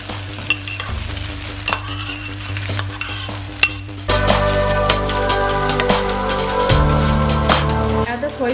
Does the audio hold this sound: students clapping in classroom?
no